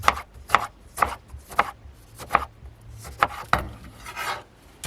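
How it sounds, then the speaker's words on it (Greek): A knife chops tomato on a board for a gyros marinade in a close, crisp series of about ten evenly spaced cuts. The strokes keep a steady rhythm and no one speaks. "Θα ψιλοκόψουμε και την ντομάτα ή θα την πολτοποιήσετε μαζί με το κρεμμύδι, όπως θέλετε."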